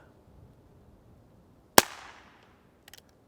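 A single sharp rifle shot fired at a 100-yard target from a long-barreled rifle, close and loud against near silence, with a brief decaying tail and a faint distant impact or echo about a second later.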